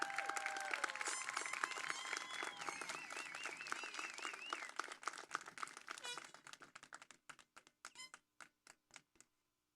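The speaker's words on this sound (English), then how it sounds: "Let's give him a big round of applause." A crowd at a high school graduation ceremony in Falfurrias applauds, a dense wash of clapping that thins after several seconds into a handful of scattered individual claps, with whistles and a few cheers mixed in early.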